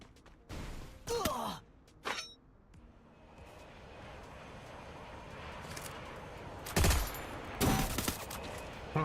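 Gunfire in the mobile battle royale game Free Fire MAX: several sharp, loud shots crack in short clusters at the start and again near the end, over a steady low rumble of background game noise.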